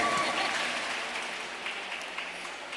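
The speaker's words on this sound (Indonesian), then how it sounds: "Tepuk tangan untuk Pak Wali." An audience gives the mayor a short round of applause, a soft, steady patter of many hands that tapers off within a few seconds.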